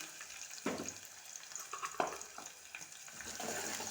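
Hot oil in a frying pan crackles and spits as cumin seeds splutter while a curry is started, with steady sizzling hiss and sharper pops throughout, close and moderately loud, no voices.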